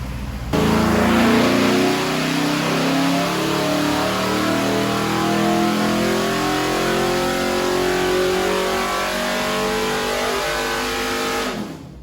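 A car engine with its oil pressure relief valve removed and plugged roars loudly under load on a dynamometer, pitch climbing steadily through a sustained pull before cutting off abruptly at the end.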